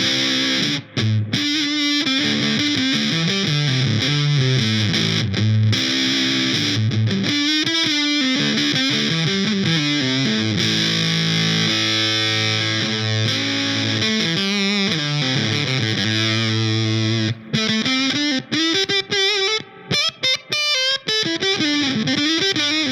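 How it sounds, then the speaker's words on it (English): Sustained electric guitar through a fuzz pedal with thick, fuzzy distortion, tone turned down and sustain raised, playing a melodic line with long held notes and slides, loud and continuous. "That's definitely more of that classic fuzz sound."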